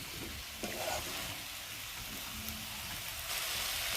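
Dried loitta fish (Bombay duck) fries in a pan with a faint, soft, continuous sizzling hiss, quiet and close.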